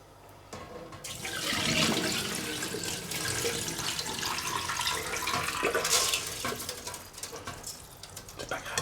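Water pours from a tap into a bowl of sushi rice being rinsed, a steady splashing stream running for most of the stretch at close range, with a brief rise in flow midway.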